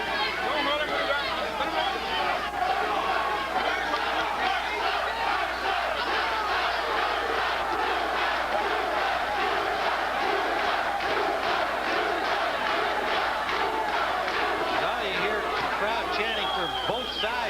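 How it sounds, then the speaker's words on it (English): Spectators at the Ray Mercer vs Bert Cooper boxing fight roar continuously, a steady crowd din with rhythmic pulses of chanting and shouting running throughout, and a commentator talks over it. "there are some Philly folks up here cheering for Cooper for sure"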